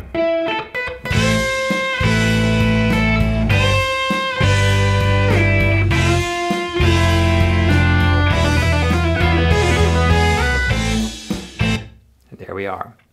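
A harmonic minor lick played slowly on a distorted electric guitar, loud sustained notes running through a bending melodic line over a low root, ending in a brief pause and a last phrase.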